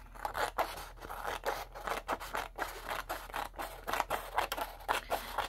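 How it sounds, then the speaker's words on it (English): Scissors snip through a printed paper legend, trimming away excess paper in a series of quick crisp cuts, each a short rasping crunch, repeated in an uneven rhythm close by with no talk. "I'm gonna cut it down to size a little bit"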